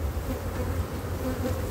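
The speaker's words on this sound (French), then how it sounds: "Ça bourdonne, c'est pas content parce que je suis devant l'entrée." Dense, continuous drone of honeybees buzzing up close at a hive entrance, steady and fairly loud with no voices.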